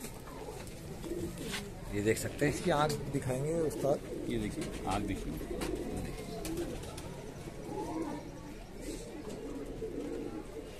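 King-size pigeons in a kept flock, Rajasthani and Rampur types, coo with low, repeated throaty warbles through much of the clip, under someone talking close by.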